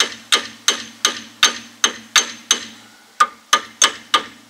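Metal hammer strikes ring out about a dozen times in a steady rhythm while brake pads are changed on an Opel Crossland X, each blow sharp and close with a short ringing decay, no talk over them.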